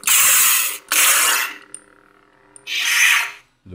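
A Rick's 89 Sabers DV3 Darth Vader lightsaber with a Proffie sound board fires three loud, crackling, hissing clash-flash bursts, each under a second long, with near-silent gaps carrying only a faint hum and small clicks.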